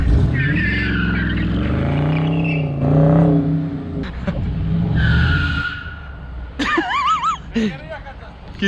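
A 5.7-litre eight-cylinder Dodge Challenger HEMI drives nearby, its engine revving and tyres squealing in short bursts, while people talk loudly over it.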